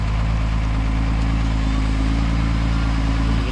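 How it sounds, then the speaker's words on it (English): A Unimog expedition truck's engine runs loud and steady at close range, a continuous deep rumble as the truck tries to drive and slides on a slippery track. "I start trying to drive, and the truck just starts to slide"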